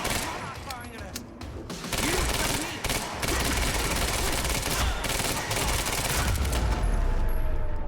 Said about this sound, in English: You heard the gunfire.